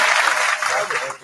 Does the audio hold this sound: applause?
yes